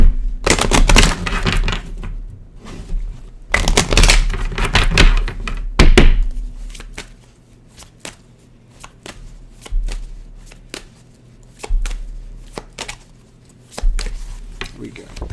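Cards being shuffled in two quick riffling bursts, then scattered soft taps and thuds as the deck is handled, fairly close.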